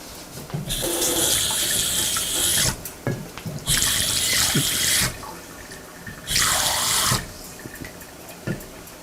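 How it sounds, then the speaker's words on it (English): Water gushes into a pan for a chicken stew in three separate bursts, each lasting about two seconds, with clinks and handling noises in the pauses between them. "what I'm going to do is add a little bit of water to this"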